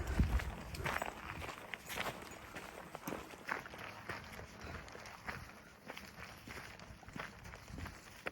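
Hikers' boots crunch steadily along a forest trail on the Appalachian/Long Trail in Vermont, with a continuous rhythm of close footsteps and light rustling throughout.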